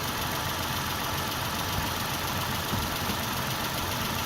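A 2001 Isuzu Rodeo engine idles steadily, with an even, continuous hum and a faint mechanical tick that does not change from start to end.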